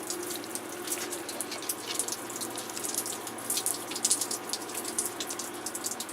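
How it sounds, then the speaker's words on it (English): Water poured through a potted plant in a greenhouse, running out onto the floor as a steady, fairly quiet trickle and patter of drips that continues throughout without talk. "Just pour it through, let it run through onto the floor."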